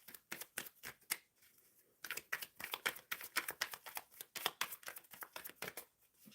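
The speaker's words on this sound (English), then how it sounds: "Shuffling for M Love." Tarot cards being shuffled by hand, a quiet, close run of crisp riffling flicks and soft slaps in an irregular rhythm, with no talking.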